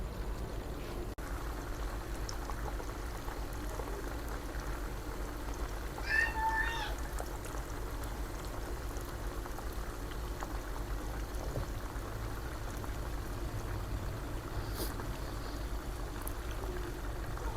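Chicken fries in ghee with a steady, faint, even sizzle that runs unbroken from start to end, while a cat meows once briefly in the background.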